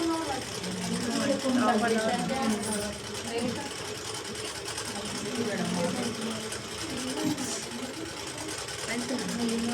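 A sewing machine runs steadily, stitching slowly through a thick joined seam with a constant mechanical whir, and voices talk over it throughout.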